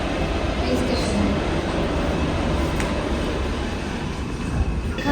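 A metro train runs through a Budapest subway station with a steady loud roar and rumble of the carriages, constant throughout the clip.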